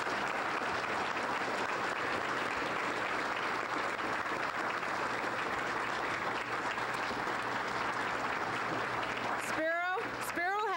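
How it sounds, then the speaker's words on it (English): Sustained audience applause fills the hall at a 1984 Cupertino Distinguished Citizens of the Year award ceremony, loud and continuous throughout, with a brief whistle near the end. "My applause off to you, out to you."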